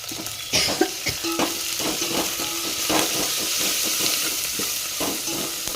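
Potatoes fry in a pan for an aloo fry, sizzling loudly and steadily at close range while a utensil stirs and scrapes at irregular intervals; nobody speaks.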